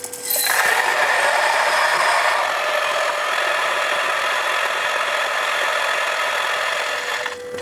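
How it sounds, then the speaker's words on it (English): A DF64V coffee grinder running, a steady high motor whine with a slight rattle that starts abruptly, holds evenly at close range and cuts off at the end. "But anyway, it's a very quiet grinder."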